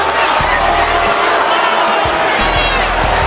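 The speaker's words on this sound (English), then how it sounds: "Everybody just booing him, man." A wrestling arena crowd in WWE 2K25 roars in a dense, loud, sustained wash aimed at Dominik Mysterio, with thuds from the ring and voices talking over it.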